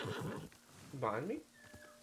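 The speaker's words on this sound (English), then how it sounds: "Horse!" A horse neighs in the video game Ghost of Tsushima, one short whinny rising in the middle under a player's spoken commentary.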